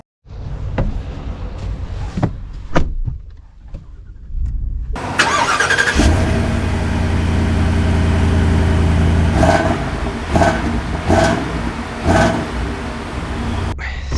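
A Ford Super Duty pickup with the 6.8L gas V8 pulls away. After a quiet stretch with small clicks and knocks, the engine rumbles in, loud and close, holding a steady low drone with a few sharp ticks over it.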